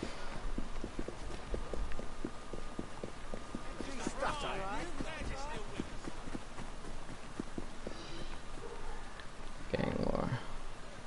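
Horse hooves clip-clop in a steady rapid rhythm through Assassin's Creed Syndicate gameplay, with brief game voices and effects over the trotting and a burst of noise near the end.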